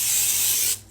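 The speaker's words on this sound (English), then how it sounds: "spray the bottom of your pan of the crock pot" A short, loud hiss of cooking spray is sprayed into a crock pot and stops abruptly after under a second.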